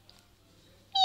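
A house cat gives one short, bright meow right at the end, after a near-silent moment, close and fairly loud.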